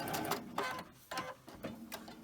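A sewing machine stitching fabric strips for a mini Christmas tree quilted wall hanging, heard up close as several short bursts of rapid mechanical whirring and clatter separated by brief pauses.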